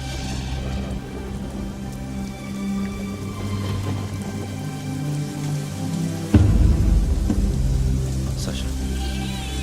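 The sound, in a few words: rain falling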